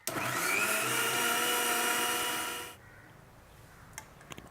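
A mixer grinder whirs loudly and steadily as it blends spinach chutney with roasted cumin, running for about two and a half seconds before cutting off abruptly into a quiet room.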